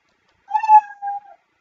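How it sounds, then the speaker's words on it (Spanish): Cat meow sound effect from the Scratch programming tool plays once, a single clear drawn-out meow, fairly loud against complete silence. "Por ejemplo, este miau."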